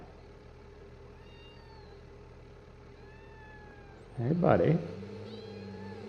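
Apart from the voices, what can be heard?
cat meowing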